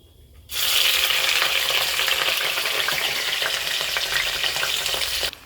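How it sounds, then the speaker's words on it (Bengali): Chopped onion hits hot oil and spiced seasoning in a pan for a chicken curry, bursting into a loud, steady, crackling sizzle that starts abruptly and holds evenly for about five seconds before cutting off. "আমি এর মধ্যে কুচনো পেঁয়াজ দিয়ে দেবো।"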